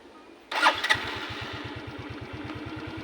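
A Smash 115 motorcycle engine fires up after a short starter burst, then settles into a close, steady, even putter at idle in neutral.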